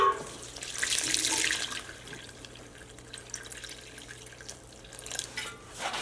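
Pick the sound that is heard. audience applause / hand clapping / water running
water running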